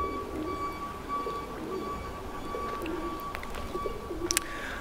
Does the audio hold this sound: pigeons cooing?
yes